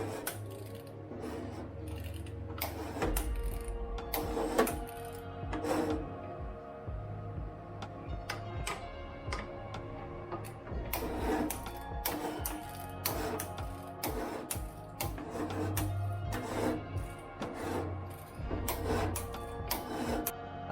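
A new engine is turned over by hand, giving close, uneven mechanical clicks and ticks with soft knocks repeating at a loose rhythm, and no talk.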